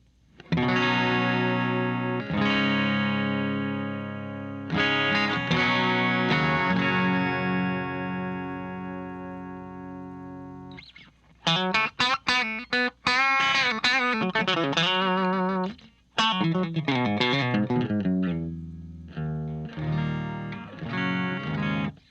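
A Fender Telecaster electric guitar on its bridge pickup plays clean, bright chords that ring out and sustain, then a quicker run of notes and more strummed chords.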